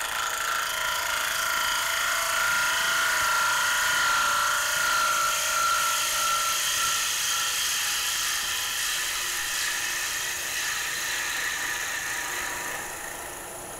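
Square wooden bowl turned on a lathe during a final finishing cut with a standard-ground gouge, a steady close whining, hissing cut with a sustained tone that tapers off slightly at the end, no talk.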